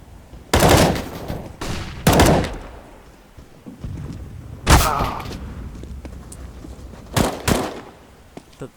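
Sniper rifle shots ring out in Counter-Strike: Global Offensive, a handful of loud, sharp cracks spaced a second or two apart, two closely paired near the end, over a low murmur of game ambience.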